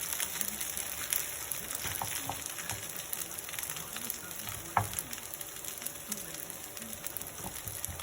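Eggs scrambled in a frying pan: a steady, loud sizzle fills the whole stretch, with scattered scraping and tapping of a utensil stirring against the pan.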